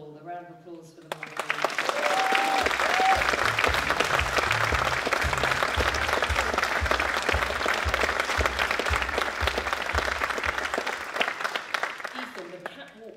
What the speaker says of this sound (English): A round of applause for them all.